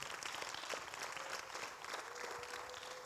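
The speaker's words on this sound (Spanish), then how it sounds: "Dale un aplauso fuerte al Señor." Sustained applause from a church congregation, fairly soft and distant, with a faint steady tone running underneath.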